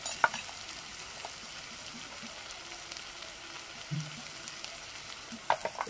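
Dried fish paste with turmeric, cumin and coriander powder fries in a pan while it is stirred, giving a steady soft sizzle with a few faint scrapes and taps.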